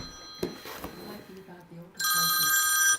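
A telephone bell rings loudly and steadily for about a second near the end, after quiet muffled voices and small sounds during a magic show.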